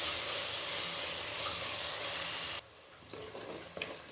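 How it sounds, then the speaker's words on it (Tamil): Ginger garlic paste sautéing in a pan for vegetable rice, a loud steady sizzle and hiss that cuts off sharply partway, leaving faint clinks and quiet kitchen sounds. "இஞ்சி பூண்டு நல்லா வதங்கி வரட்டும்"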